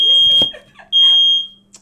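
A kitchen smoke alarm set off by cooking blares in two loud, shrill beeps separated by a brief gap, with faint clattering and a murmur of voices between them.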